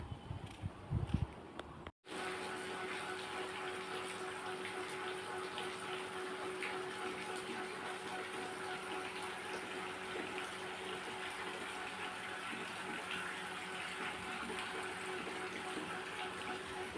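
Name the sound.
rain showers falling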